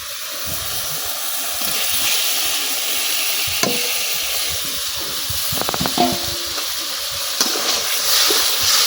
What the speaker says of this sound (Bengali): এখন কিন্তু বেগুনের সাথে এই মশলাটা খুব ভালোভাবে মিশাই লইছি